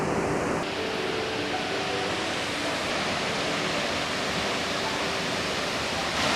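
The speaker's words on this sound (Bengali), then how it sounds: "এখান থেকে ওয়াটারফলটা একদম সামনে" Steady broadband roar of rushing water from the Perwaghagh Waterfall, heard up close in a forest setting, continuous and fairly loud with no talking.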